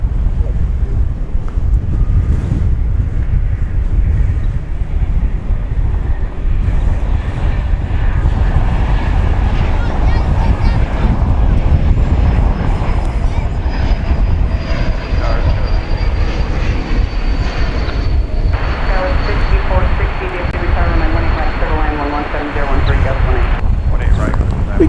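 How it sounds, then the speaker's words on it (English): A Delta Airbus A220 jet at DFW airport roars steadily with engine noise and gusting wind buffeting the microphone, a rising whine in the later part, while someone talks over it. "we've got an Airbus A220 Delta flight 2811 to Salt Lake City."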